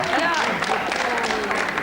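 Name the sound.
audience applause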